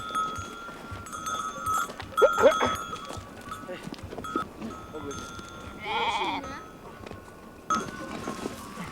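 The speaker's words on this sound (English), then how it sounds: "This is one of Jogus's flocks we've got in the pen, and we're going to pick out some 40 of last year's lambs for the festival." A flock of sheep and lambs penned in the Pindos Mountains of Greece, with scattered bleats near and far, one loud close bleat in the middle, and shuffling hooves.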